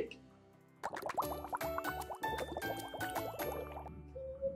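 Vinegar poured onto baking soda, first a faint trickle and then a close, busy crackle of fizzing bubbles and gurgling liquid that lasts a few seconds.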